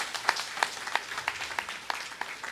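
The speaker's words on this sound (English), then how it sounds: "Please give him another round of applause." A few people clap at a birthday celebration gathering, sparse and fairly regular, evenly spaced claps, close and moderate in level, with no voices over them.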